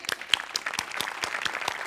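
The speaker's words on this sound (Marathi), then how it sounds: "एकदा जोरदार टाळ्या" A comedy show audience breaks into brisk applause during a stage prize-giving skit, dense overlapping claps continuing throughout the short moment.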